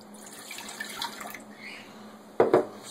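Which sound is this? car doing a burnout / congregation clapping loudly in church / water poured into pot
water poured into pot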